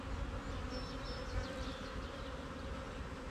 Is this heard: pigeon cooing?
no